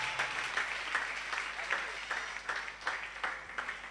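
A church congregation applauds in a quick run of rhythmic hand claps, moderately faint and steady, with a trace of voice mixed in behind.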